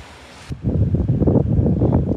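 Ocean waves wash onto a beach on Cheung Chau island, a steady, loud surging roar after a brief quieter windy start, with rolling swells and no talk.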